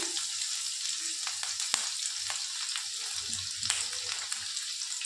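Garlic and green chillies fry in a pan with a soft continuous sizzle, punctuated by occasional scrapes and knocks as the mixture is stirred, fairly quiet and close.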